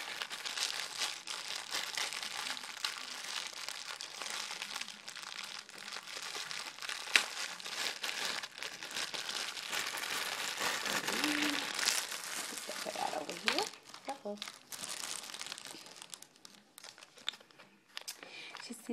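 Plastic baggie full of tinsel and glitter handled up close, continuous crinkling and rustling of thin plastic that thins out toward the end, with a voice speaking over parts of it.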